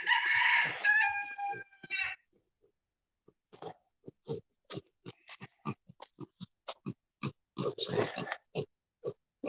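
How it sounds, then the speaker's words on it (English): A rooster crows loudly at the start and again near the end, with a run of short clucks and grunting calls in between. "Here's my chickens."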